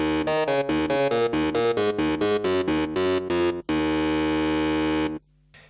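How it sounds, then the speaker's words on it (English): Sustained, buzzy synth from a Massive preset played alone, rhythmic stabbed chords for about three and a half seconds, then one long held chord that cuts off near the end. "The synth by itself, it sounds like this."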